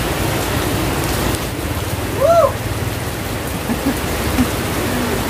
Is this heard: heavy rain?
yes